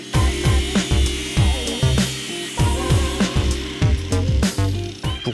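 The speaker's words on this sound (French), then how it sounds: "Il ne me reste plus qu'à découper à l'aide de la meuleuse." An angle grinder cuts metal for a planer stand in a workshop. The tool makes a loud, continuous whine with rhythmic pulsing and repeated bite-and-release surges throughout.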